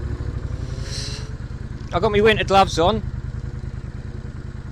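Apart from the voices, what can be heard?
Triumph Bonneville Bobber motorcycle engine while riding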